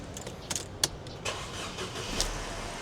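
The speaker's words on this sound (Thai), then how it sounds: "เดี๋ยวผมสตาร์ทให้ฟังเสียงเครื่องยนต์" A 2012 Mercedes-Benz C200 CGI starts and settles into a very quiet, smooth idle, with a few faint clicks over a low, steady hum.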